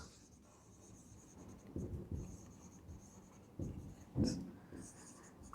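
Chalk or marker writing on a board in a classroom, a few soft scratchy strokes in short bursts, faint and close over a quiet room.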